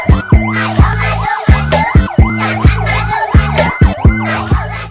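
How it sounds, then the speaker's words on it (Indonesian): A toy fire engine plays a loud, close electronic siren, a rapidly repeating wailing tone pulsing several times a second with steady buzzy pulses underneath, running without a break. "lihat yang ini mobil pemadam kebakaran"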